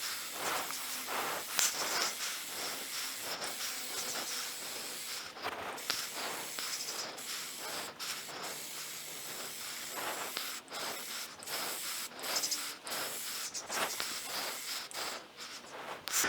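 Steady hissing of aerosol Plasti Dip spray paint on a Ninja 300 motorcycle fuel tank runs throughout, broken by brief pauses and short bursts, fairly close with no talking.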